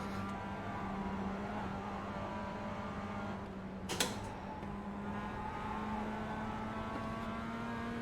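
MX-5 race cars lapping the Nordschleife in the iRacing sim, a steady engine drone with a constant low tone and a brief sharp transient around midway, fairly loud and continuous with no talk.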